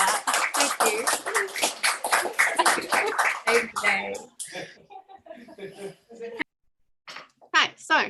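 An audience claps in a quick, even patter for about four seconds before the applause thins out. A voice then speaks in short phrases over the quieter tail.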